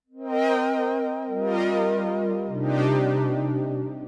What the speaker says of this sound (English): let's go and find a nice pad sound like this one